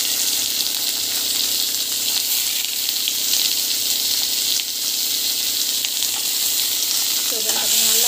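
Chopped onions frying in hot oil with mustard seeds, cumin and chili give a steady, dense sizzle and crackle that stays close and even throughout, with no talking over it.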